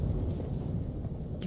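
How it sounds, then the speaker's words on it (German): Thunder rolls in the video game The Evil Within 2. A dense, low rumble fills the whole short stretch, heavy and unbroken, with a faint hiss of rain above it. "Gewitter?"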